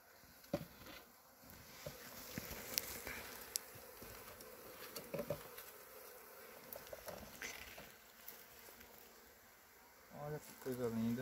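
Bees hum and buzz around an open beehive during propolis harvesting, a continuous close drone with scattered taps and scraping of hive parts, steady throughout.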